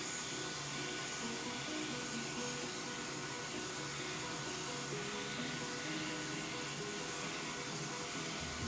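Electric clippers shaving the muzzle of a short-haired terrier, a constant close-up motor buzz and hiss running without break and without speech.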